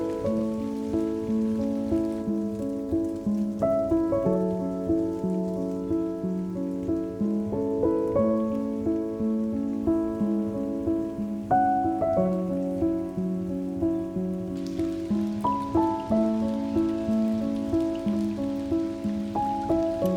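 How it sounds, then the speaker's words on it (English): Rain falls on an SUV at a campsite in a steady, even patter that continues throughout, under soft sustained music. "Pretty rainy and we don't really see it stopping anytime soon"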